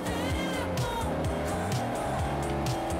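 A Ferrari 458 Spider in the racing game Forza Horizon, its engine humming under light throttle with shifting tones and a faint tire squeal, steady and close.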